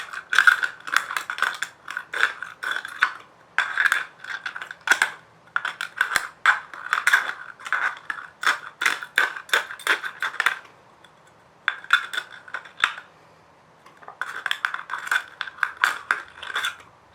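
A knife slices through thin metal material for a DIY camping stove, giving rapid bursts of scratchy, rasping cuts in quick clusters, close and crisp, separated by short pauses.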